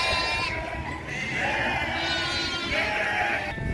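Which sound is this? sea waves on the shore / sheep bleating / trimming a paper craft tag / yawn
sheep bleating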